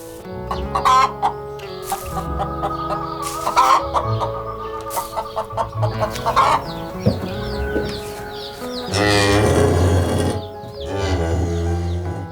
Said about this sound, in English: the chickens come and go as they please